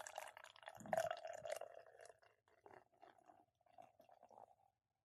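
Beer poured into a glass, with soft liquid trickles and drips over about five seconds, loudest in the first two seconds and fading to quieter splashes near the end.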